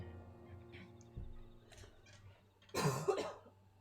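A burst of coughing near the end, loud and close, over a steady low hum with a faint earlier thud.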